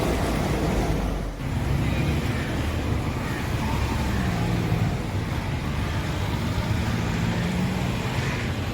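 Cars pass on a road beside an amusement park with children's rides, forming a continuous, fairly loud roar of traffic that stays level across nearly nine seconds with no clear talk over it.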